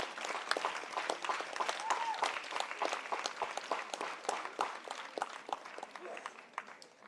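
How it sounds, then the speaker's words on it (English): A crowd at the Seva Sambhrama event in Bengaluru applauds its partners, with distinct, sharp handclaps in a lively, uneven patter of moderate loudness lasting throughout. "Can we give a big round of applause,"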